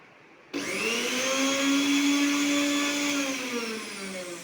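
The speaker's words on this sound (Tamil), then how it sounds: "முதலில் சேஃப்டி, பிறகுதான் மிக்சி ஆப்ரேட்டிங்." A 1000-watt kitchen mixer grinder switches on abruptly and runs steadily with a loud, close motor whine that holds its pitch for several seconds before easing slightly at the end.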